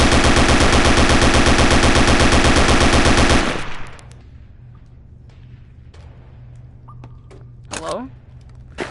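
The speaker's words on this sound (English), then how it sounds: "Here's the STG-44. German perfection at its finest." An STG-44 assault rifle fires a sustained, very loud fully automatic burst of rapid, evenly spaced shots that cuts off abruptly, followed by quieter handling clatter and a brief voice.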